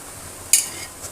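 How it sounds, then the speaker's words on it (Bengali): A spoon stirs spinach into a pot of vegetable khichuri, giving one brief, close scrape and shuffle against the pot, followed by a soft faint stir, with a quiet background. "পালং শাকটা দিয়ে উপর নিচ করে মিশিয়ে দিচ্ছি"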